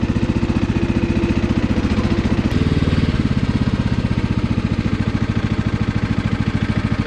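A lawn tractor's engine drones steadily and loudly while it cuts grass, a continuous throbbing hum that shifts briefly in pitch partway through, with no voices over it.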